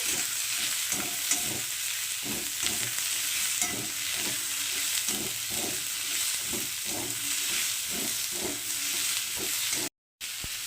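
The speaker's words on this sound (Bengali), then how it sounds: "ক্যাপসিকামটাও একটু হালকা ভেজে নেব।" Onion and a large capsicum stir-fried in a pan, with a steady loud sizzle and regular scraping stirs repeating throughout, briefly cut off near the end.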